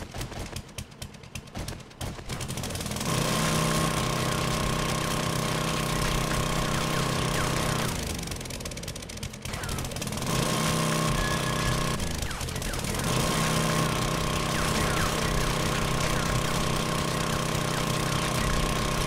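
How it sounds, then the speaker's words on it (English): An auger digs in the 7 Days to Die video game, giving a loud, steady mechanical grinding whir with a dip in the middle before resuming, after a few sharp clanks at the start. "Love the auger. Do the auger all day, every day."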